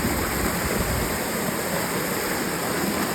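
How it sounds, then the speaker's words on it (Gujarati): A powerful waterfall near Jatashankar in Junagadh roars steadily and close, a dense continuous rush of falling water with no other sounds. "આ અહીંયા જબરજસ્ત પડી ગયો છે ધોધ જુઓ પાણીનો"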